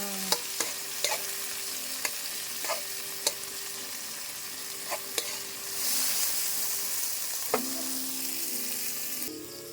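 Tomatoes sautéing in a pan for pork adobo, a steady close sizzle and fry with periodic sharp stirring taps of a utensil against the pan, swelling louder midway, with no talking.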